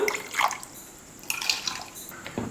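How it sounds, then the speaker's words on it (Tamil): Water poured into a cooking pot of rice, with splashing and trickling bursts, a pause, then more pouring and drips, fairly quiet and close. "கொஞ்சம் தண்ணி சேர்த்து அலசி சேர்த்துக்கலாம்"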